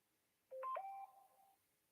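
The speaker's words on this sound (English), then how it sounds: "As you can hear, I'm getting text message." A phone text message alert plays a short electronic melody of a few quick stepped tones, clear and alone in a quiet room, then fades out.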